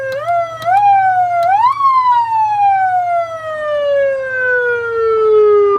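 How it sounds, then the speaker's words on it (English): An electronic siren from a vehicle PA system wails, stepping upward in short rising sweeps before settling into one long, slow downward glide; loud and close, no talking. "We have siren right here, which actually kind of, if you tap it, it just does that."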